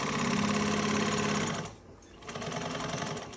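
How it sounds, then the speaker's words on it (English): A sewing machine sews a panel onto the bottom of a bag with a loud, close buzzing drive that pauses briefly midway and then resumes. "So I'm just sewing this on."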